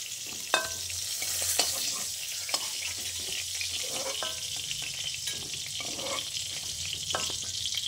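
Pieces of pointed gourd (potol) fry in hot oil with a steady broad sizzle, broken by sharp clicks and scrapes as they are lifted out of the pan one by one.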